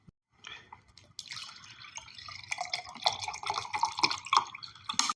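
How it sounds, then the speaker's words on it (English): A glass of water mixed with half a teaspoon of baking soda is filled from a tap, a faint pour that starts after a moment of quiet and runs on with splashing, gurgling bursts. "You fill it up with water."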